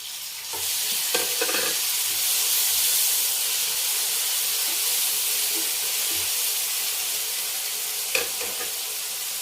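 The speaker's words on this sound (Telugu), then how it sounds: "బాగా వేగిన తర్వాత టమాటా వేసుకుందాం" Tomatoes sizzle steadily in a hot frying pan while cooking fenugreek-leaf dal, a continuous close hiss of frying with a few soft clinks and stirring taps, no voices.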